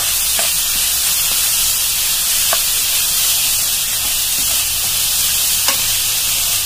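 Sliced onion and carrot sauté in a hot pan for a chicken filling, giving a constant close sizzle broken by light scrapes and taps of a stirring spatula, with no voices.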